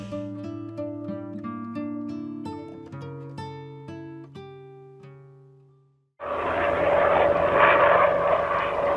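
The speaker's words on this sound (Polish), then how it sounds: "już trzeci helikopter w ciągu minuty tutaj przelatuje" A helicopter flies over in a fishing video game: game music plays at first, then a loud, steady rotor-and-engine roar abruptly takes over for the last three seconds, with no talk.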